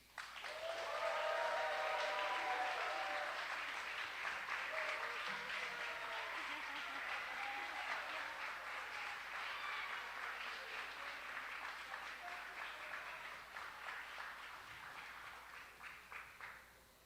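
Sustained applause and clapping from an audience at a holiday party fills the room for over fifteen seconds, dense and steady, with voices and cheers mixed in, heard from a distance.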